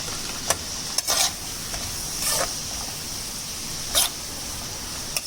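Onions and curry leaves sautéing in a pan for Kerala chicken cutlets, a steady bright hiss of frying punctuated by several short scraping stirs of a spoon.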